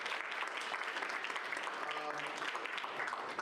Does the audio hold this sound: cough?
no